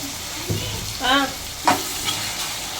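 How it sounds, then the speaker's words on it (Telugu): Chicken egg roll filling fries in a pan with soy sauce, giving a steady sizzle broken by a few scraping stirs of a utensil, close and moderately loud. "చూడండి ఎలా ఉడుకుతూ ఉందో, ఇలాగ బాగా ఉడికిపోవాలన్నమాట."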